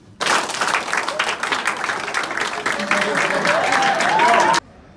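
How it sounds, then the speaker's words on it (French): A crowd applauds steadily for about four seconds, dense clapping from many hands, then stops abruptly. "Applaudissements politiques."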